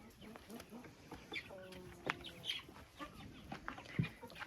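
A broody hen murmurs soft, low clucks while chasing her chicks around a farm enclosure, with scattered faint chick peeps and rustling nearby; the sound is quiet and intermittent.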